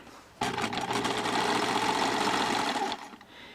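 A sewing machine runs a zigzag stitch along a stretched fabric edge to make a mock rolled hem. Its steady, close whirring chatter starts abruptly, holds for roughly two and a half seconds, then stops.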